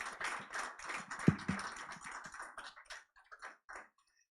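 A small gathering at a letter-of-intent signing for the NLNG Train 7 EPC applauds the winning team, a light spatter of claps that thins out and fades to scattered single claps.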